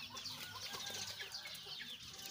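Thai native Pradu Hang Dam chickens at feeding time on a backyard farm, clucking and flapping wings in a busy cluster, soft and fairly close.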